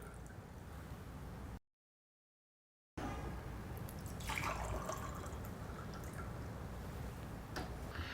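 Water is poured out of two glasses, with soft trickling and dripping, a short gap of silence, then more pouring and splashes, fairly quiet and close with no talking.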